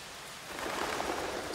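Steady rain hiss in the video game Tom Clancy's Ghost Recon: Future Soldier, broadband and continuous, growing slightly louder partway through, with no voices.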